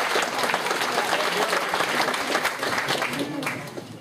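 Crowd at a Doctor Who convention panel in Cardiff applauding, thick continuous clapping with scattered cheers and shouts layered over it, loud and sustained before easing slightly at the end.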